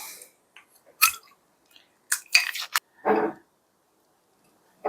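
Close, wet chewing and biting on a McDonald's Quarter Pounder of bun, cheese and beef patty, heard as a few short, separate bursts with quiet gaps between them.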